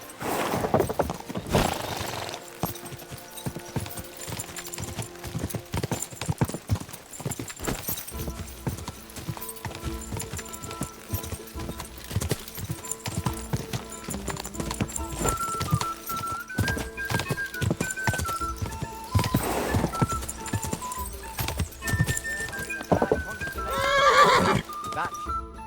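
Horses gallop and whinny in the medieval video game Kingdom Come: Deliverance 2, with rhythmic hoofbeats and neighs mixed under game music and character voices during a race across a valley.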